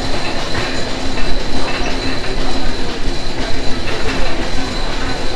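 The Ruposhi Bangla Express rolls at Kashiani Junction with a loud, steady rumble of wheels on rail, faint squealing and an uneven clatter from the carriages, and no voices over it.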